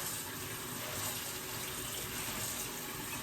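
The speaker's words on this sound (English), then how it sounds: "And this is cold water." A faucet pours cold water in a continuous, even hiss, close by and unbroken, with no talking.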